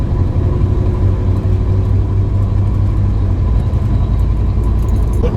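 Steady, loud low rumble of an American pickup truck's 5.7-litre V8 engine, heard from inside the cab as a continuous drone with a constant idle-like pulse and no voices.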